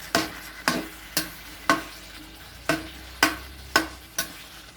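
Pork being stir-fried with red curry paste for a Thai pork and long bean dish, a spatula scraping the pan in about eight regular strokes over a soft sizzle, close and alone.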